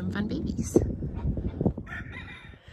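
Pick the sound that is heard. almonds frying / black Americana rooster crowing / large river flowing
black Americana rooster crowing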